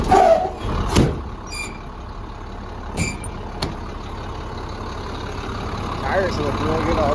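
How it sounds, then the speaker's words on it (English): A 2004 International service truck with a Knapheide toolbox bed runs at a steady idle, a low continuous rumble with a few sharp knocks and clicks on top. "Motor looks real clean. It sounds good."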